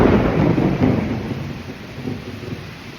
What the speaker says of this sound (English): now that there's a monsoon happening outside. It's that rain that poured.